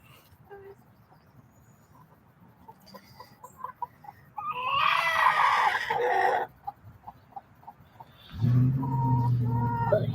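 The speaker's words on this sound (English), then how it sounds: "But here's a hen." Hens cluck and squawk in a burst of agitated calls, followed by quieter clucks and a low rumbling noise near the end.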